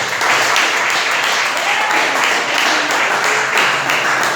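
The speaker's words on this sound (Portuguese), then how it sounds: "Aplauda os céus bem forte" A church congregation in California applauds loudly and continuously, forming a dense, steady wash of clapping with no pauses.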